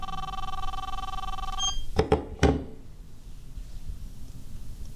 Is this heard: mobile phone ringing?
yes